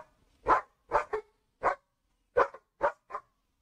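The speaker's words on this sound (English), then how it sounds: "Why are your dogs barking?" Dogs barking indoors in the background of a phone call, seven sharp separate woofs in an uneven rhythm, some paired, at moderate volume with no talking over them.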